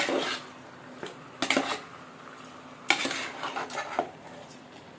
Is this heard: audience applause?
no